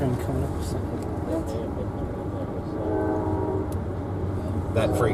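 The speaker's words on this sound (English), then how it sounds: "That freight train." A freight train rolling past a steam excursion behind Norfolk & Western J Class #611 between Greensboro and Roanoke, with a steady low rumble, horn tones sounding midway and near the end, and voices talking over it.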